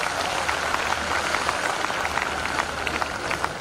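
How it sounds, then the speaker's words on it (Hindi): A crowd at a Hindi kavi sammelan gives sustained applause for poet Dinesh Bawra, dense steady clapping from many hands that carries on evenly for several seconds. "एक बार जोरदार तालियां आप दिनेश के लिए बजा दीजिए"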